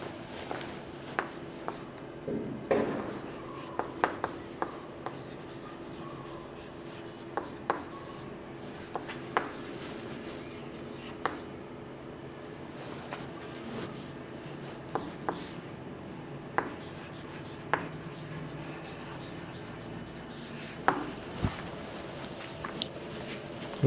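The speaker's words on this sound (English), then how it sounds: "I will write an example." Marker or chalk scratches and taps faintly against a board while an English grammar example is written out in a quiet room. Scattered short strokes and clicks sound over a soft steady background, with no talking.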